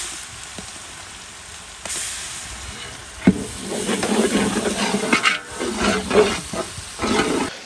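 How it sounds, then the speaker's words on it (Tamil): Ground ginger-garlic paste dropped into a pan of sautéed onions for a jackfruit veg biryani, a sudden crackling sizzle that bursts and flares in waves over steady hiss, close and outdoors. "இப்போ நம்ம வந்து அரைச்சி வச்சா இஞ்சி பூண்டை போட போகிறோம்."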